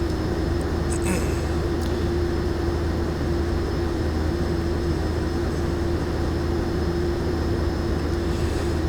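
Pilatus PC-12 turboprop taxiing in the X-Plane 11 flight simulator at Teterboro, a constant loud droning engine hum with a steady tonal whine, unchanging throughout.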